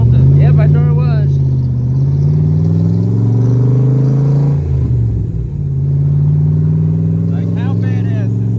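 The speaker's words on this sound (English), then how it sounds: "Cruising around in a 65 Shelby Cobra Kit Car?" A 1965 Shelby Cobra kit car engine drones loudly and steadily as the car drives, rising in pitch as it accelerates, dipping briefly midway, with people talking and exclaiming over it throughout.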